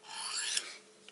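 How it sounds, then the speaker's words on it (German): A knife drawn once across a compact Victorinox sharpening stone gives a single smooth, close rasping stroke that fades out, followed by a tiny tap. "liegt der Schleifstein sehr gut in der Hand und dann kann man sein Messer"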